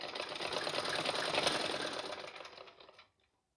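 A sewing machine stitches a garment neckline in one steady, fairly close run of rapid needle chatter lasting about three seconds, then stops abruptly into silence.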